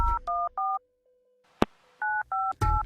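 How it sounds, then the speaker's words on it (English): Phone keypad tones sound as a number is punched in: three quick paired beeps, a pause with a steady faint tone and a click, then three more beeps, close and clear. "he quickly punched in his home phone number."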